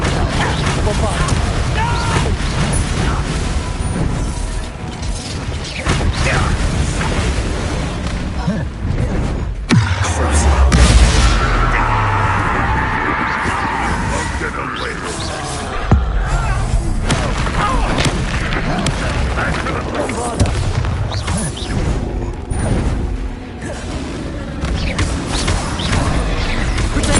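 Bombarda blasting spells from Hogwarts Legacy go off in loud booming explosions, one big blast near the middle among repeated crashes and rumbles, with game music and voices beneath.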